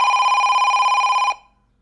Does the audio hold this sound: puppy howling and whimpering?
no